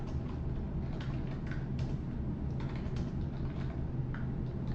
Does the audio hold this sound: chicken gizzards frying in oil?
no